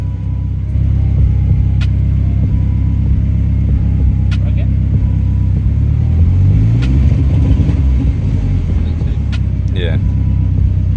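A BMW E30 fitted with a turbocharged M42 engine holds against a two-step limiter set at 2,000 RPM, producing a steady, loud, close-up rumble with faint crackling pops, while voices can be heard nearby.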